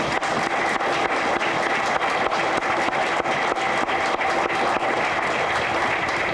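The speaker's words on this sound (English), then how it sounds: "So I have to give a great round of applause to the city and all their staff, Al Carlson and Diane Northbrook." A crowd applauds city staff at the groundbreaking of the Schmidt Brewery Artist Lofts in Minnesota, with dense, sustained clapping that runs steady and fairly loud from start to finish and no talking.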